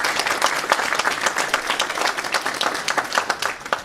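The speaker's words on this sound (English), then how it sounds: "let's give a round of applause for that" Audience at a New England real estate investors conference breaks into steady, dense applause, many hands clapping together at close range with no voices over it.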